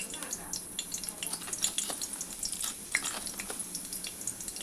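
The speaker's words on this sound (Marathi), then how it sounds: "आता आपण जिरे टाकून घेऊया" Cumin seeds crackle and sizzle in hot oil in a pan on a gas stove, a close, continuous frying hiss with dense tiny pops throughout.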